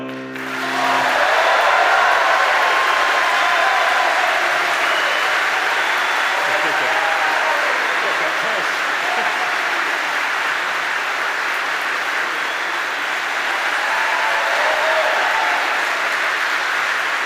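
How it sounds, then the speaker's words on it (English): An audience at the University of Pittsburgh School of Medicine 2022 White Coat Ceremony applauds an operatic performance, a long, sustained wave of clapping that swells at first and holds steady throughout. "Please join me in another round of applause for Mr. Fandry and Ms. Risinger for that entertaining performance."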